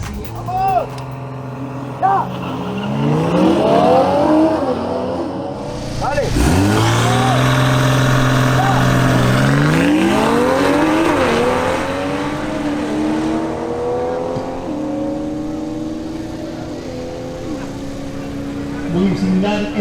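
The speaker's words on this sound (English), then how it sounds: "Next they face Jose Barron in his BMW X6 M50i versus Maria Clara Polo in her BMW M340i xDrive" Two BMWs, an X6 M50i and an M340i xDrive, launch in a drag race; loud engines rev and accelerate with rising gear sweeps through several shifts, under an announcer's talk throughout.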